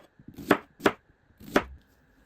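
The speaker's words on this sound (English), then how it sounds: "Chop the lettuce, then slice the tomato," Knife chopping lettuce, tomato and onion on a cutting board, three crisp, distinct thuds spaced unevenly, close and clear in a quiet kitchen.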